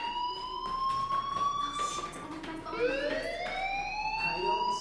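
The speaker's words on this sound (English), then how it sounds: "do you hear that fire alarm? That means you should be outside." A fire alarm sounds inside the video game Life is Strange, a loud, continuous electronic wail whose pitch rises and falls in repeated sweeps, with no voices over it.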